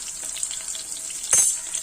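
Mustard seeds splutter in hot oil: a steady sizzle with a brief louder burst of popping and spluttering near the end, close and fairly quiet, no voices.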